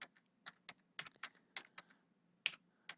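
Typing on a computer keyboard while tabbing between text fields of a simple encryption tool, a string of separate close, crisp key clicks with uneven spacing and short pauses in a quiet room.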